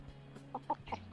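A pet chicken gives a few soft, short clucks, spaced irregularly and fairly faint against quiet background hum.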